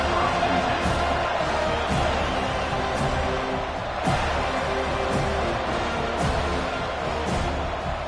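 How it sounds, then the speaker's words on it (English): Stadium crowd at a football game giving a loud, sustained roar of cheering and noise with periodic sharper thumps, dense and continuous throughout, with faint talk mixed in. "This crowd bringing an ear-splitting welcome to their visitors."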